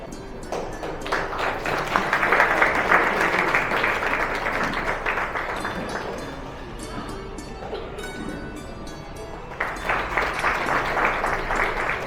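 Applause from an audience at a felicitation ceremony held by a Namdev community council in Pune, a dense and steady clapping that swells early, eases off midway and then picks up again near the end.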